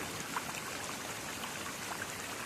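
Water streams and trickles along a hiking trail that has turned into a creek after rain, a constant close wash of running water with no voices.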